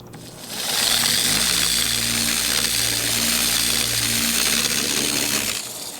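Wet sanding a car's paint scratch by hand with 3000 grit sandpaper and a little water, a steady close gritty scraping hiss running for several seconds with a low mechanical hum beneath.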